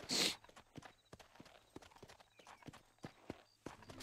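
Soft, irregular horse hoofbeats clop along at a walking pace in the video game Red Dead Redemption, fairly quiet, after a brief burst of noise at the start.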